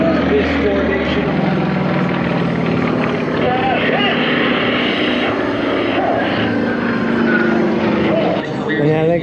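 Aircraft flying in formation at an air show produce a loud, sustained engine drone that holds steady overhead with slight shifts in pitch, while an announcer talks over it.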